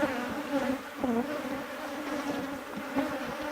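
Honey bees buzz at an open hive whose frames are full of nectar, capped honey and brood, a dense close drone with individual bees whining past the microphone.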